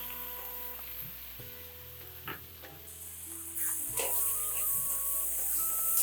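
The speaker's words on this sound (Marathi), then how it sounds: "खोबरं छान असं परतून घ्यायचंय।" Grated fresh coconut sautéing in a pan after asafoetida, a soft continuous sizzle with occasional stirring scrapes that grows slightly louder toward the end.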